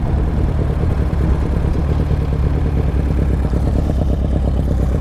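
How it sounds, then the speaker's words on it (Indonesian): A motorcycle engine runs steadily up close, a rough mid-pitched rumble with a rattling clatter that holds an even level the whole time. "Kabotan mesin ya motor ini"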